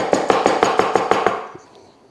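A knife finely chopping onion on a cutting board, about eight quick, evenly spaced close thuds before it stops and goes quiet.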